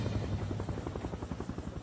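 Helicopters flying over an air crash site in the mountains, a steady rhythmic rotor chop with a droning engine whine, moderately distant and continuous.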